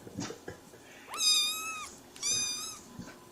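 Cats meowing: two loud, drawn-out meows about a second apart, each rising then holding, with faint clicks and rustle before them and no talk.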